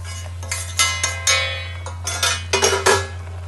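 A metal spoon scrapes and clinks against a pan while roasted wheat flour is mixed for modak, in a series of close, bright scraping strokes of varying length over a low steady hum.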